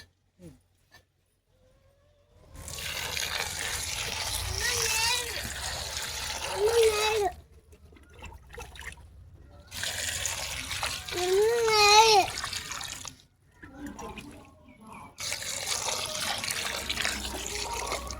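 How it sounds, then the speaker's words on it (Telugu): Gongura leaves are washed by hand in water, with splashing and trickling in bursts separated by brief pauses, while a voice talks over the sloshing. "గోంగూర అయితే శుభ్రంగా కడుక్కుందాం."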